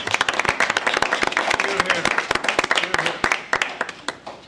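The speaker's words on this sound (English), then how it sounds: "get a round of applause for you from the commission" Applause breaks out at a city plan commission zoning committee meeting: lively, close clapping from a small group, many individual claps audible in a dense irregular rhythm that tapers off slightly toward the end.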